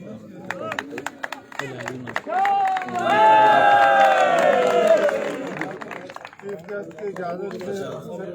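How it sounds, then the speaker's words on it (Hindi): An outdoor crowd at an all-Pakistan volleyball tournament's final ceremony bursts into loud applause and cheering. Someone speaks over a PA before the clapping swells, peaks and then fades back into chatter. "भरपूर तालियां बजा करो"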